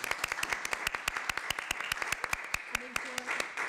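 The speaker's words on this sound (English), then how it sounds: "Give them a round of applause." A small audience claps at a council meeting: sparse, sharp hand claps in a quick irregular rhythm, close and fairly faint, with a brief voice near the end.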